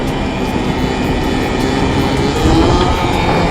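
A fully electric 72V ATV quad motor whines and roars as the machine pops a wheelie, a loud continuous drone with a brief rising surge near the end.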